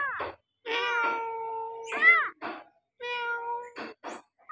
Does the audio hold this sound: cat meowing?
yes